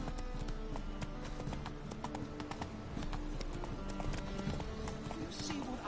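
Horse hooves clip-clopping at a steady walk in The Witcher video game, a brisk rhythmic patter of hoofbeats with game ambience and a voice speaking over it.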